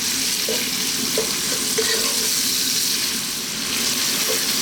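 Bacon, pepper and vegetables cook for split pea soup in a pot over just-above-medium heat, giving a steady, fairly loud sizzle with occasional stirring scrapes and no talk.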